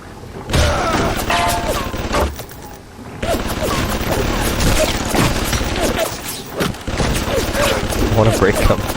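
A security turret firing in BioShock Remastered, repeated loud bursts of gunfire with clattering mechanical impacts and crashes across several seconds, close and harsh, with a brief lull early on.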